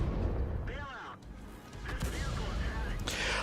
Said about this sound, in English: But I'm also firing my gun as I'm reversing.